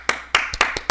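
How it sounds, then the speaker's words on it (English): A quick run of about six sharp hand claps in uneven rhythm, close and crisp, with short silent gaps between them and no talking. "The first clap of the episode."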